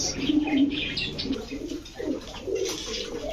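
Racer pigeons coo repeatedly in low, throaty bursts, with a few higher chirps and light rustling mixed in, fairly close and continuous.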